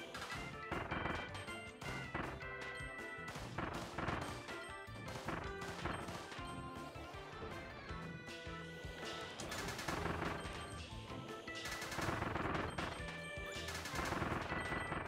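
Cannons fire in Kirby and the Forgotten Land amid dense, continuous game sound, with repeated loud booming blasts and crashes layered over music throughout.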